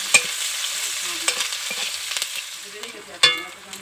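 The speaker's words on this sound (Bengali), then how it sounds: "একটু ভালো করে ভেজে নেব।" Chopped onion, panch phoron and slit green chillies fry in oil with a soft, steady sizzle, punctuated by a few sharp utensil knocks and scrapes close by, without talk.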